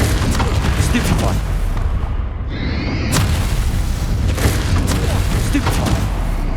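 A Stupefy spell cast in the game Hogwarts Legacy, loud booming magical blasts with thudding impacts repeating over a dense combat soundscape, briefly dipping before another burst; no talk.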